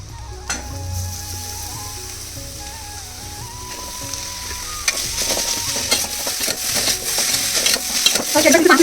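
Onion and spices sizzling and frying in hot oil in a pan for radish curry, a steady crackling hiss with stirring clinks, growing louder toward the end.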